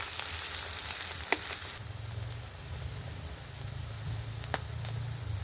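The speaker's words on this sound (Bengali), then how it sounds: "পেঁয়াজ দিচ্ছি পেঁয়াজটা আমি ভালো করে ভেজে নেব" Onion frying in a pan for ghugni, a steady close sizzle and crackle that runs throughout, with a couple of sharp pops and a slight shift in tone partway through, no voices.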